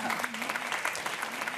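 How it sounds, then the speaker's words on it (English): An audience at a talk on artificial intelligence and creativity applauds the introduction of the humanoid robot Sophia, a brief burst of moderate clapping from the crowd with a voice faintly underneath. "Give her a round of applause."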